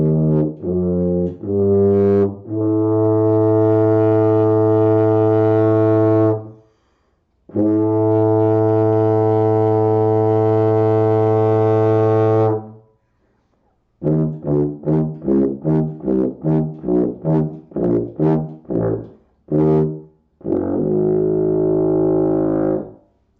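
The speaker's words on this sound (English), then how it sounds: "This particular horn sounds like this." A brass horn sounds loud sustained notes, two long held tones followed by a series of short, quick repeated blasts and a final brief note, heard alone without talk.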